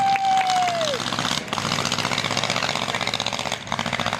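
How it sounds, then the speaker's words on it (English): Vintage airplane engine running at Old Rhinebeck Aerodrome, a steady loud drone with a brief dip midway, with no talk over it. "The engine probably sounds like it's turning."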